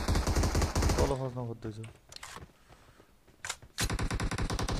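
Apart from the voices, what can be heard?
gunfire in a video game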